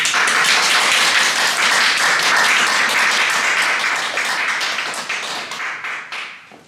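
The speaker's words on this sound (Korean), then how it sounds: "우리 정종환 박사님을 뜨거운 박수로 모시겠습니다" Warm applause welcomes a doctor onto a stage at a Korean talk event, dense and loud, holding steady before thinning and fading out near the end.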